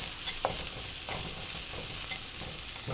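Vegetable fried rice with beans is tossed in a hot pan: a continuous soft sizzle with a few sharp scrapes and rattles as the rice is flipped, heard close and without speech.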